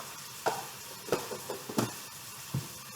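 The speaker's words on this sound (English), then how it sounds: "And I'm going to mix it up throughout" Seasoned meat being stirred in a pan, a steady soft sizzle broken by several scraping and stirring strokes at irregular intervals, fairly quiet and close, with no talking.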